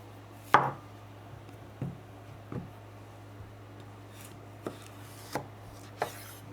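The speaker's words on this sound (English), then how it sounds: "We're going to start with the cucumber. Okay, cut the ends." A knife chops through a cucumber on a board in a few sharp, separate cuts, one louder at the start and then spaced irregularly, close and clear over a quiet kitchen hum.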